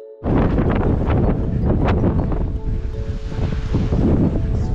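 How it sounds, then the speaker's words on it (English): Steady, loud wind on a mountain ridge trail in Tahoe National Forest, California, buffets the microphone in a continuous broadband rush, with gusts swelling and easing throughout. "It's a little windy up here"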